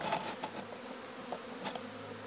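Bees buzz in a low, steady drone while a hive is opened for the first inspection of the year, a soft, continuous hum with faint rises and no talk.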